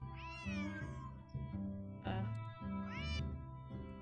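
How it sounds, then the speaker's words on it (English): A cat meows repeatedly in a Nancy Drew adventure game, three clear, drawn-out rising-and-falling meows with short gaps, close and distinct against a soft background tone. "Otherwise, he'll just keep meowing."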